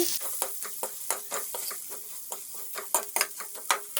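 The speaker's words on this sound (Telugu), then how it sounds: "బాగా సిమ్లో పెట్టుకొని ఈ విధంగా మగ్గబెట్టుకోవాలి" Prawn masala for a prawn fry simmers in a pan with a soft sizzle, while a spoon stirs it in quick, repeated scraping clicks close by.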